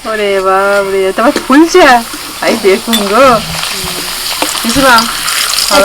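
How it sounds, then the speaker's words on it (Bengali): A whole papad fries in hot oil in a wok, its soft sizzle running under close, lively conversation that dominates throughout. "প্রথমে একটা গোটা ভেজেই দেখি কেমন হয়"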